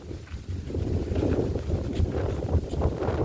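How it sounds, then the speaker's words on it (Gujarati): Steady wind buffets the microphone with a low rumbling roar, continuous and fairly loud throughout. "જો પવન ફૂલે ફૂલ છે."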